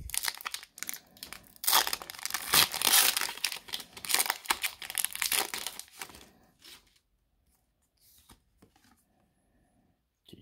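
Crinkling foil wrapper of a Pokémon card booster pack being torn open and handled, a dense close rustle for about seven seconds, then a few faint scattered crackles.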